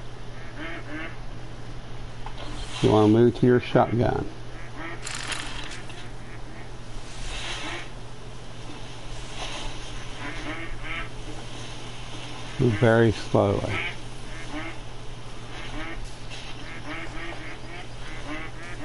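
Ducks quack in two short bursts in the hunting game theHunter: Call of the Wild, sounding like three or four birds calling at moderate distance, over steady ambient background while someone speaks quietly.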